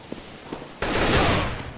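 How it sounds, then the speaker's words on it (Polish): A single gunshot in Counter-Strike: Global Offensive: a sudden loud crack after quiet, with a sustained noisy tail that lingers and fades slowly. "koleś po prostu strzelił"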